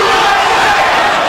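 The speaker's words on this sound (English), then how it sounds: "Crowd chants USA to try to bolster the hopes of Vince Phillips" A boxing crowd roars a steady chant of USA in support of Vince Phillips during his 1996 fight against Kostya Tszyu, a dense, loud wash of many voices filling the arena.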